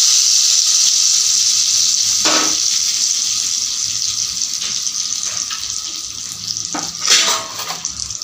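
Hot tempering of dried red chillies and garlic poured over paneer for palak paneer, a bright steady sizzle with a few sharp crackles and splashes, close, no talking.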